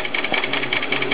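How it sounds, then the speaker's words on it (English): A computer-guided quilting sewing machine stitches steadily, a loud, close, rapid rhythmic mechanical hum and clatter throughout, with no talk. "So you can see that it's stitching out still."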